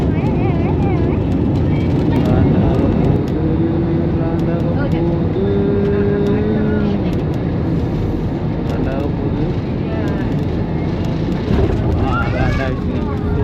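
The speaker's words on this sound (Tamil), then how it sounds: "ஃப்ளைட் டேக் ஆஃப் ஆகுது நம்ம டனாங்லேருந்து இப்போ தான் டேக் ஆஃப் ஆகுது" A passenger airplane taking off from Da Nang, Vietnam, fills the clip with a steady, loud engine roar, with a voice speaking over the noise.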